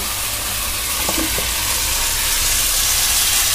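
Boal fish frying in hot oil in a pan, a steady dense sizzle throughout with a few brief stirring clinks near the start, close and fairly loud, no talk.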